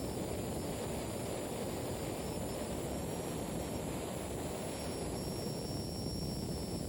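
Additively manufactured preassembled turbojet with a hydrostatic bearing, its rotor driven by pressurized air toward 36,000 RPM, giving a steady, loud broadband roar and whine that runs unbroken throughout.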